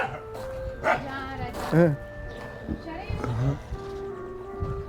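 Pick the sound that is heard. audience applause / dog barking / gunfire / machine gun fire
dog barking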